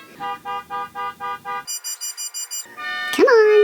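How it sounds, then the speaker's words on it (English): A car alarm sounding in a residential neighborhood, cycling through loud repeating tones: a run of pulsed beeps, a faster high chirping pattern, then a rising whooping siren, heard close and alone. "an alarm going off in the neighborhood"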